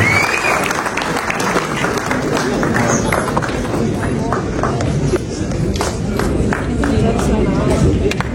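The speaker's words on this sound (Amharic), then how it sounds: "አጨብጭቡላት" A crowd applauds an actress at a film premiere for the mafia film, giving dense, sustained clapping that stays loud and even throughout. Crowd murmur mixes into the applause.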